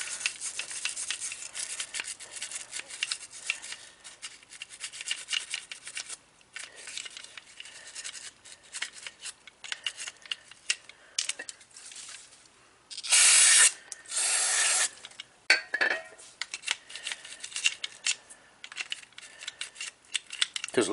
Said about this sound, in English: I'm just hitting it with some carburetor cleaner, or actually that's brake cleaner.